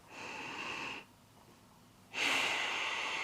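A person breathes during a yoga calf stretch, with a soft hissing inhale, a quiet pause, then a louder, close exhale.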